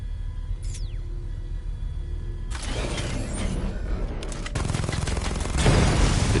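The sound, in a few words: chain gun firing in Batman: Arkham Knight video game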